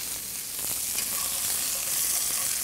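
Turkey tenders fry in a hot pan over high heat, giving a steady, close, bright sizzle and crackle that carries on without pause and with no talking.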